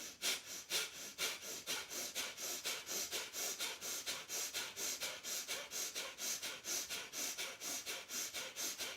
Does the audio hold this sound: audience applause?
no